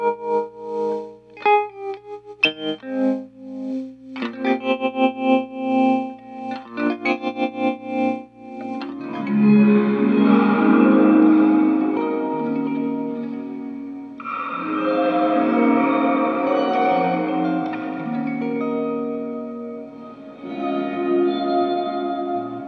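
Audio effect from a DIP-switch effects unit, set to bounce two signals continuously in opposite directions, producing a swirling sound illusion; clipped, gated bursts give way to a sustained, heavily processed, wavering tone, loud and without speech.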